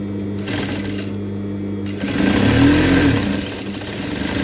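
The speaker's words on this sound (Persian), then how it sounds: "این شکل سر کار رو 2 میل فاصله میدیم و میدوزیم." A sewing machine stitches angled fabric corners 2 mm from the edge, its close whirring motor running in short bursts with brief pauses, then speeding up into a steadier hum.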